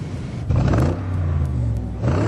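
A 2003 Overfinch Range Rover 580s revs hard in sport mode while racing off-road, a loud, close engine rumble that climbs in pitch and holds a steady throaty drone.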